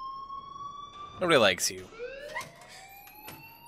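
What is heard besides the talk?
alarm sounding in video game Life Is Strange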